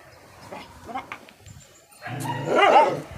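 A dog near a home deep in the forest barks in a few short bursts, closer and louder toward the end, with people talking around it.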